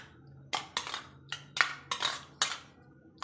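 Small chunks of potato stirred together in a bowl for a curd-potato chutney make repeated light clinking and scraping knocks, close by and modest in volume, with no voices.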